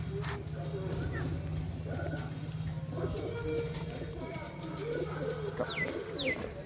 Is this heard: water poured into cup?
no